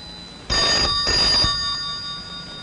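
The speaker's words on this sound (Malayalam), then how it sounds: "ഫോൺ ബെല്ലടിക്കുന്നത് നിനക്ക് കേട്ടൂടെ" A telephone bell rings in two loud, close bursts separated by a short pause, with a faint tail afterward.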